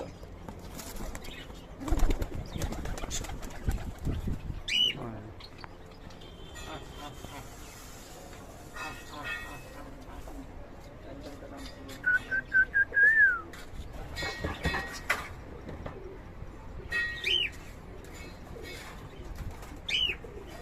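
Pigeons kept for flying in Bangladesh coo and call with whistle-like notes, with bursts of wing flapping nearby amid outdoor background noise and voices.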